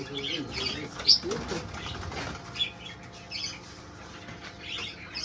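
A caught partridge flaps its wings hard in a hen coop, bursts of close, fluttery wing beats over steady background noise, with a sharp flurry near the start.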